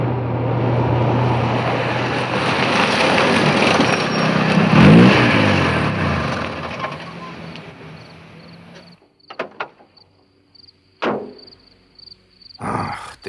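A car with a flat tyre swerves along a road and pulls to a stop: a steady engine and road roar swells, then cuts out, followed by a few sharp knocks and clicks in the quiet.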